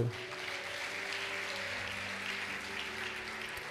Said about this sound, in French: Est-ce qu'on peut applaudir pour cette...